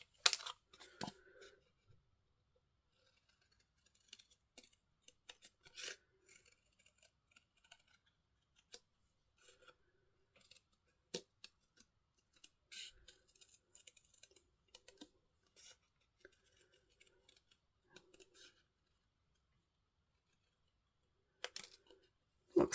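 Scissors snip out stamped paper card images in quiet, intermittent bursts of small crisp cuts with pauses between, faint and close, with no speech.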